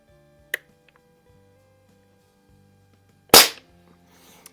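Two sharp shots from a Barra 1866 CO2 BB air pistol with a blued finish and stock .177 smooth bore barrel, a faint pop first and then a loud crack with a short ring-off in a quiet setting.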